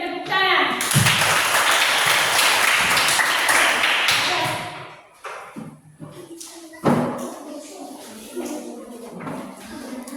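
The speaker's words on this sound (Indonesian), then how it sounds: "Ya, berikan tepuk tangan." Classmates in a classroom clap after a group presentation, a dense burst of applause for about four seconds that fades into scattered claps, thumps and nearby chatter.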